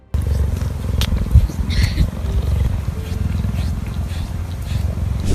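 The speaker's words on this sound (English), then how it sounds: "Listen to the cheetah's purr." A cheetah's deep, rhythmic purr rumbles steadily and close up, pulsing continuously with a few faint clicks and rustles over it.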